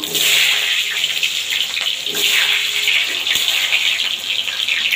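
A loud, continuous sizzle of cumin seeds, bay leaf and potato hitting hot oil in a pan, a bright crackling hiss that holds steady throughout, with no talking.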